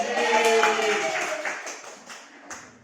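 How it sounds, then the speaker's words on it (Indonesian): Children clap hands together in an elementary math class, a short burst of rhythmic claps over a sung or chanted voice, fading into a few separate claps at the end. "Tepuk tangan."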